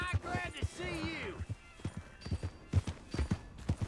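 Horse hooves clip-clop in Red Dead Redemption 2, a steady series of hollow, close thuds taking over after a brief opening stretch of voice, moderately loud and evenly paced.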